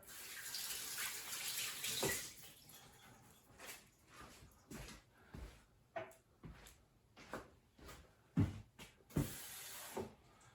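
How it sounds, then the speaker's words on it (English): Water runs in a short pour at the start, poured into jars of bone-in chicken drumsticks for canning, followed by a series of soft knocks and clinks of jars being handled, quiet and close. "I'm going to give them just a little bit of water."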